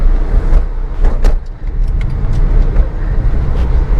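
A Datsun Redigo small hatchback is driven on a hot day with the air conditioning running, giving a loud, steady engine and road hum heard from inside the cabin, with a few faint clicks and rattles.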